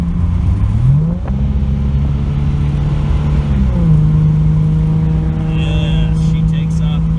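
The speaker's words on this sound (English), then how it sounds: "This car drives nice and smooth, but when you give it the power, it takes off nice." A 1997 Ford Thunderbird with custom intake and exhaust accelerates, its engine note climbing in pitch through a gear change and then holding a steady, smooth drone as the car pulls away, heard from inside the cabin.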